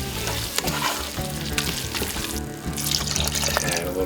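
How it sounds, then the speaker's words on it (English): Casserole sizzling and bubbling in a pot on the stove as it is stirred, with close scraping and stirring strokes over continuous frying noise and a brief watery splash of liquid. "While that's cooking, just keep on stirring."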